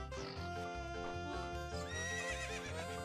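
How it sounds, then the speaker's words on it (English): A horse in the video game Ocarina of Time whinnies loudly with a long wavering neigh over steady galloping hoofbeats, set against game music, close and prominent. "My horse will be here any second"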